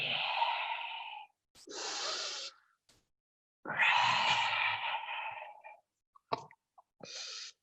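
Deep yoga breathing during a vinyasa flow, long slow audible inhales and exhales through the nose close to the listener, separated by short silences, with a few small clicks and no talk.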